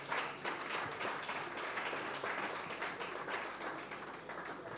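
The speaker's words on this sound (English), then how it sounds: "Please, let's give him a round of applause once more." A conference audience gives a speaker a steady round of applause, a dense wash of many hands clapping that holds evenly from start to finish at a moderate distance.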